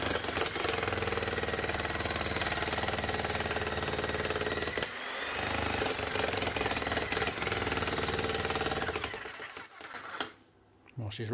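A power demolition hammer fitted with a chisel runs loud and continuous, a dense rapid hammering clatter that briefly dips midway and cuts off near the end, with no talk over it.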